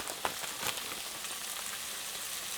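Chicken pieces dusted with flour being stir-fried in a pan for a cream stew, a soft steady sizzle with a couple of quick scraping stirs at the start, faint and alone.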